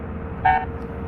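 A single short bus horn toot in a bus simulator video game sounds briefly over a steady engine hum, moderately loud and clear.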